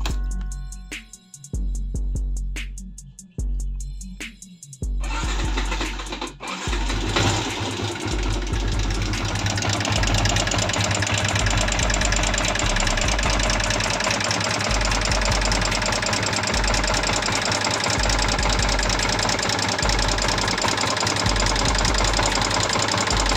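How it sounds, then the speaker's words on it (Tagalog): A noisy Sniper 150 motorcycle engine with loud knocking from the head, after a few short revs and cranks it settles into a steady, close, continuous rattling run with a low rhythmic pulse. "sobrang ingay na nung sniper ko sa bandang head"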